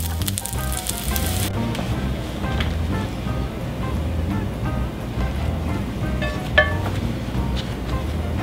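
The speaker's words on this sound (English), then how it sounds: "Alright, so that was cooking the burger there." A Morningstar Cheezeburger veggie patty fries in a cast iron pan, giving a steady loud sizzle that stays constant throughout, with a brief sharp tick near the end.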